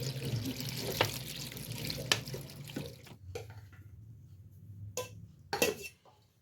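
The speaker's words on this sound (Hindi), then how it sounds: "पालक को भी अच्छी तरह से धो लेते हैं, इसके अंदर भी मिट्टी होती है बहुत ज़्यादा" Tap water runs into a kitchen sink as spinach leaves are washed, a hissing stream that starts and stops, with occasional clinks of dishes and a utensil.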